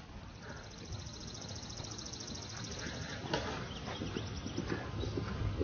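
Steady, rhythmic hoofbeats of a walking horse clop along at moderate distance over a soft, noisy outdoor background.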